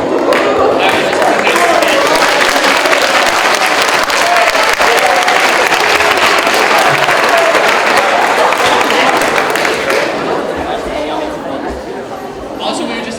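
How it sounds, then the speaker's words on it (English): A congressional debate audience applauds loudly and continuously, with chatter mixed in, fading slightly toward the end. "we would just ask the audience to please hold your applause"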